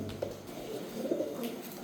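Pigeons at a bird market give faint, low cooing calls in short soft bursts, somewhat distant against a murmuring background.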